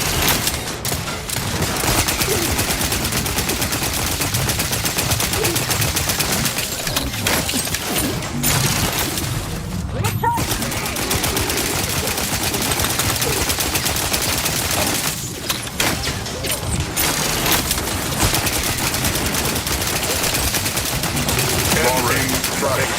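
Video game gunfire running on Linux, with sustained machine-gun fusillades and scattered shots, loud and dense with brief gaps, while a voice talks over the battle.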